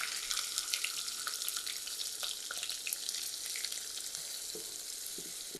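Onions frying in a pan for an aloo bharta, a dense bright sizzle right from the start with crackling spits, close and steady until it cuts off.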